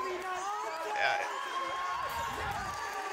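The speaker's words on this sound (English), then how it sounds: "Whoa, the crowd. I can hear them all the way back here in the commentating booth" Crowd at a ninja obstacle course competition cheering and shouting in a continuous, busy wash, with voices rising and falling, heard from some distance.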